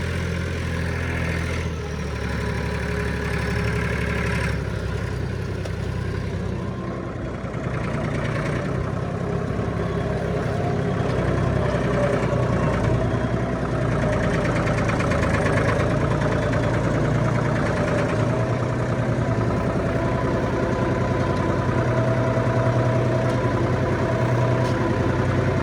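A tractor engine idles steadily on a wet, muddy farm near a barn, a continuous low rumble with a faint knocking texture running unbroken and close throughout, with no talking.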